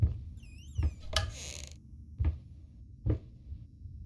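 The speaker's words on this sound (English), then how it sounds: "That door opened." A door creaks open in the horror game Layers of Fear, with a few dull knocks and a brief high whine of wood heard on its own in a quiet room.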